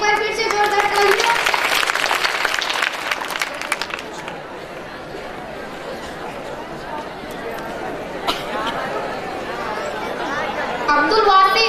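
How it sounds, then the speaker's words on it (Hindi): Audience at a school annual function applauds to welcome a student singer, with loud clapping and crowd chatter filling the first seconds and then fading to a murmur, followed by a brief swell of noise near the end. "तो उनके स्वागत में एक बार फिर से जोरदार तालियां।"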